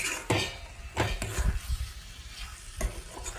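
Egg curry being stirred with raw mustard oil in a pan: a spoon scraping and knocking against the pan in several strokes over a soft sizzle, close and fairly loud.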